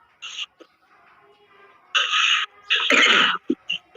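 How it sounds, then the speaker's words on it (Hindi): A man coughs during a spiritual gathering, giving several harsh, throaty bursts of varying length, the loudest near the end followed by short sharp hacks, close and fairly loud with no speech over them. "मुझे खांसी आ रही है ना, इसलिए पूछ रहा।"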